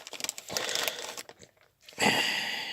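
A plastic bag from a toy box is handled and crinkled in close bursts of crackling rustle, with a brief quiet gap before a louder crumple.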